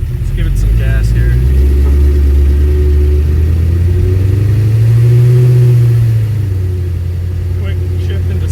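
An LS-swapped 1987 El Camino engine revs up from a low rumble, climbs in pitch and holds, then settles back down, loud and close, with someone talking over parts of it.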